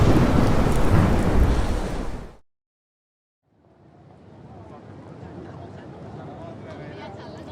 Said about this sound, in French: À travers le hublot, ils regardent la pluie tomber et les flots bondir sur la mer comme un